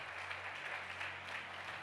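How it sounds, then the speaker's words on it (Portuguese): Church congregation applauding a family asked to stand, a steady wash of clapping from many hands throughout, fairly even in level with no voices on top. "Queria uma salva de palmas para a família deles."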